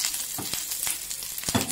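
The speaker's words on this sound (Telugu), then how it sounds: "నూనె మరుగుతుంది. ఇప్పుడు తాలింపు వేసేస్తాను." Tempering spices sizzle sharply in hot oil in a steel pan, a bright crackling hiss with a few louder spits and pops over the short stretch, close and without speech.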